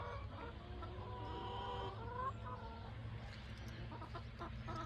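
Free-range chickens clucking on a New Zealand farm, many birds close and far overlapping in a continuous busy chatter over a steady low background rumble.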